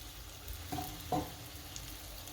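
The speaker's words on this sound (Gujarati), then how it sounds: "આપણું તેલ ગરમ થઈ ગયું છે આને પેલા તળી લેશું અને ધીમે તાપે તળવાનું છે" Soft, quiet sizzle of papad rolls frying in oil, with two brief clinks or plops as pieces are dropped in.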